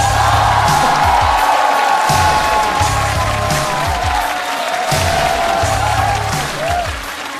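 A studio audience at a Chinese roast comedy show bursts into loud, sustained applause with whoops and cheers as a guest is welcomed onstage, filling the whole stretch without a break.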